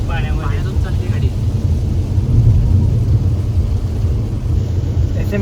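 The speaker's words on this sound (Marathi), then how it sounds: "कशी होती गाडी पाण्यातून चालली गाडी" A car drives through standing water on a road during heavy monsoon rain, a steady, close, low rumbling roar of engine, tyres and spray that continues unbroken throughout.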